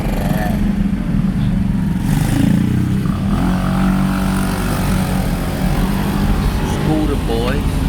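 Scooters and motorbikes ride past on a Baltimore street, engines buzzing and revving near and loud over several seconds, with people talking over the traffic noise.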